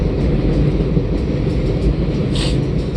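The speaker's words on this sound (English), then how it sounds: "look at this train coming by" A train rolling past nearby, a loud continuous low rumble and roar with steady mechanical clatter throughout, heard alone without talk.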